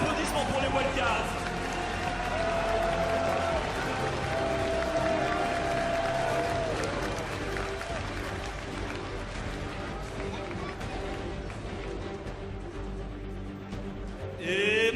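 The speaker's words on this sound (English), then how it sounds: "Des applaudissements pour les wildcards." A large arena crowd at the League of Legends World Championship 2015 opening ceremony keeps up loud, continuous applause and cheering with a dense, steady roar, while a voice speaks over it.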